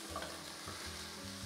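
Mushrooms sizzle steadily in a hot pan for vegan tacos, with soft scraping stir strokes recurring every half second or so, close and fairly quiet, no voices.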